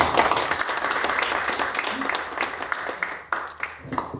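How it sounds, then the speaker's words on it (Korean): Applause from a lecture audience at the close of a special talk on the Korean Wave and Korean literature, a steady wash of many hands clapping for about four seconds, dense and moderately close, with scattered louder claps near the end. "다시 한번 큰 박수 좀 부탁드립니다"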